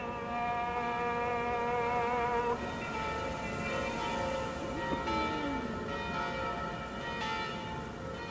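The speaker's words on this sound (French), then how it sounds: "leur répondent toutes les cloches de toutes les églises" Church bells ring across Jerusalem, a steady sustained chorus of pealing tones from several bells that rings on and overlaps without a break.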